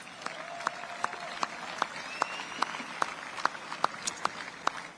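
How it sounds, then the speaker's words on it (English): A small audience claps at a Brussels celebration marking 250 years of American independence, sparse distinct handclaps in an uneven rhythm, fairly distant, with a faint voice underneath. "And they deserve a round of applause"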